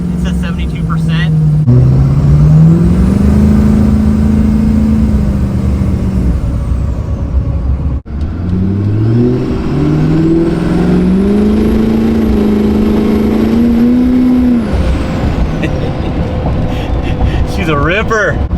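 A diesel pickup truck engine pulls hard through rising and falling gears, a loud droning rumble that climbs in pitch, shifts, and climbs again, heard from inside the cab.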